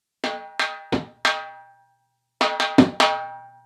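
A dhol plays a simple na na ke na stroke pattern: four ringing strokes, a short pause, then four more, each hit clear and resonant with a decaying tail, close up and alone.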